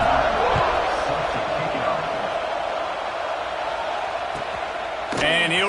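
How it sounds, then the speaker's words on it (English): Stadium crowd in the college football video game NCAA 26, Michigan vs Iowa, a steady dense roar of buzzing fans after a score, with a brief sharp sound near the end. "this crowd is buzzing after that last score"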